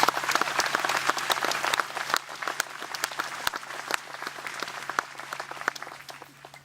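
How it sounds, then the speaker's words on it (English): Applause from a high school audience at an academic hall of fame ceremony, a sustained patter of many hands with distinct sharper claps standing out, fairly close and tapering slightly toward the end. "If we might have a round of applause for those fathers."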